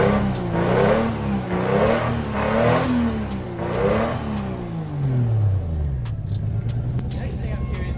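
A car with a swapped Toyota 1JZ engine running slightly rough, revving in several rising and falling swells before settling to a lumpy idle, close by, with someone talking over it.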